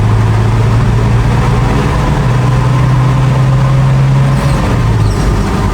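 A Toyota HiAce van with nearly one million km driving in third gear, a loud close engine drone inside the cabin with a steady low tone holding for several seconds, then dropping away near the end.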